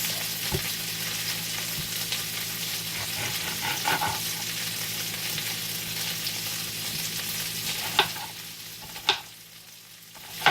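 Steady close sizzling and crackling of food frying in a pan with butter and oil, with a few sharp clinks and scrapes near the end.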